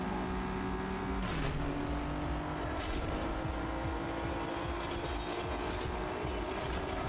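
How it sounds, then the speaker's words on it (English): A train in the racing video game Need for Speed: The Run, a steady low rumble of rolling rail cars mixed with a car engine, with a couple of sharp clanks, constant and fairly quiet with no talking. "We get to jump over a train in a second."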